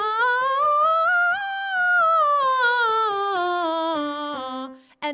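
A solo singer demonstrates mixed voice, carrying one sustained sung line that glides smoothly up and back down through the registers without an audible break. The voice is close and clear.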